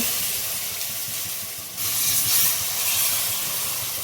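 Milk poured into a hot roasted prasad mixture in ghee gives a loud, steady hiss that swells into stronger sizzling and steaming partway through, with no talking.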